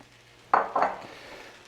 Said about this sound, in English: Notice I'm tossing it rather than stirring it so it won't get them all mushed up.